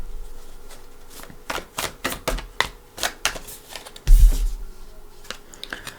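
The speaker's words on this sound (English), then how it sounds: "I'm going to shuffle." Tarot cards being shuffled by hand, giving a run of crisp riffling flicks and soft slaps up close, with a heavier thump from the deck near the end, alone with no talk.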